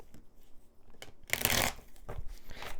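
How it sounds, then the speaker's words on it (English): Tarot cards being mixed by hand: several quick papery riffles and slides, with one louder, denser burst of shuffling in the middle, close up and with no talk over it. "Gotta mix these cards first."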